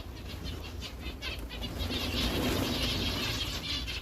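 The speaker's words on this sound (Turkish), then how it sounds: "Hemen kalkıyorlar en küçük bir harekette." Several birds burst into flight together, a quick flurry of wing flaps rising and fading over soft background noise.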